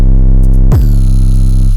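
Layered 808 bass samples for a trap beat play as one loud, sustained booming tone that drops sharply in pitch partway through and then holds a deep, rich note to the end.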